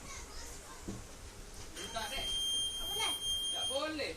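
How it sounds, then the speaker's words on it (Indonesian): A Honda Beat 2013 scooter's turn-signal buzzer beeps as a steady high-pitched tone for about two seconds, sounding over children's voices and chatter nearby. "Posisi motor saat di on akan mengeluarkan buzzer ya jika lampu sennya dinyalakan."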